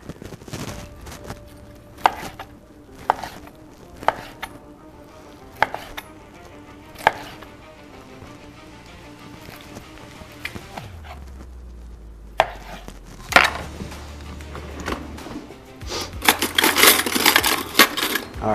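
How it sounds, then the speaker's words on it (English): A knife carves a roast Peking duck to take off a leg, giving a series of sharp chopping knocks and clinks, sparse at first and then denser and louder near the end, with no talk. "All right, we're gonna carve this up. I think what we need to do is take one of these legs off here."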